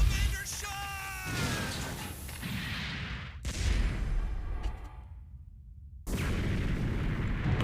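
A 70s mecha anime scene carries explosions. Heavy, rumbling booms and blasts come in several abrupt bursts, with noisy roaring debris between them and the sound cutting sharply in and out.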